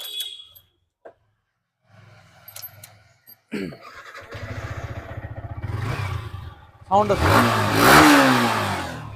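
A motorcycle at a used-bike showroom near Kolkata is started on its self-starter, with a short whirring crank followed by the engine catching and revving up loudly, nearby and growing louder toward the end, with people talking around it.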